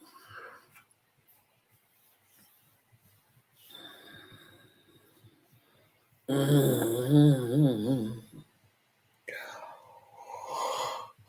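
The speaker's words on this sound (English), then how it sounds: "I've been yawning a lot lately." A person gives a long, loud, groaning yawn up close, its wavering voiced sound rising out of quiet breathy noises, with another drawn-out vocal exhale shortly after.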